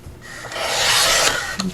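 A large paper trimmer slices the edge off a sheet of paper for origami Miura fold inserts, one smooth rising rasp of the blade about a second long, close up, ending with a small click.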